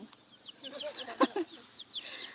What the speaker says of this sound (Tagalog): Napoy mga manok-manok diri